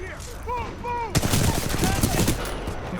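In the Titanfall 2 online game, a voice speaks briefly, then a sudden burst of rapid gunfire erupts and keeps cracking loudly for the rest of the moment.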